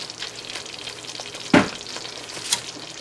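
Hot fudge sauce being stirred in a pot, a steady bubbling sizzle with a sudden louder scrape or knock of the spoon midway and a lighter tap near the end, close by.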